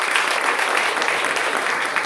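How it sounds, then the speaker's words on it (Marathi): A seated crowd gives a burst of vigorous applause for themselves, a thick continuous clatter of many hands clapping, loud and even for the whole couple of seconds with no voices over it. "ते एकदा स्वतःसाठी जोरदार टाळ द्या"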